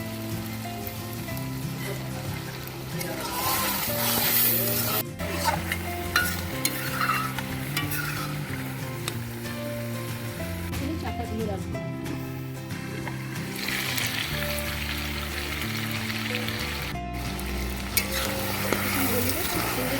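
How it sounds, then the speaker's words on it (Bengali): Duck meat fries with dried chili paste, cumin and coriander, giving a steady sizzle under repeated scraping strokes of a spoon in the pan, with a low hum running beneath throughout. "জিরে ধনে দিয়ে কষিয়ে নেওয়ার পর এখন আমি শুকনো লঙ্কা বাটা সেটা দিয়ে দিচ্ছি"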